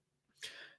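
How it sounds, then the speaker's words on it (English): A single short, breathy cough with a rough throaty edge, quiet and close, set against near silence during a live-streamed talk. "Sorry, I had a cough"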